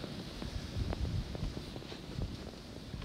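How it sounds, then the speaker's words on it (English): Wind blowing through a snowy blizzard, a steady low rush with gusty buffeting against the microphone, no voices. "Might sound really windy."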